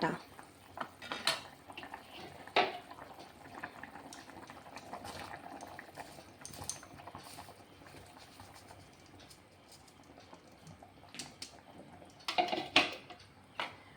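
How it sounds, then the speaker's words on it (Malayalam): Rice is stirred into a pot of boiling water for mutton biryani, with irregular clinks and scrapes of a metal spoon against the pot over a soft, continuous bubbling background. "നല്ലോണം ഇളക്കി കൊടുക്കാം"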